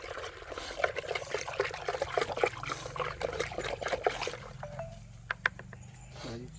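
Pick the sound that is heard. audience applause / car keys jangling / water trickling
water trickling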